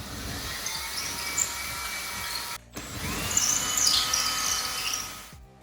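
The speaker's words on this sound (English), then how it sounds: "I'm gonna drill those holes." A power drill bores holes in a wall for smoke detector anchors, a steady close whine running about two and a half seconds, breaking off briefly, then starting again with a rougher grinding tone.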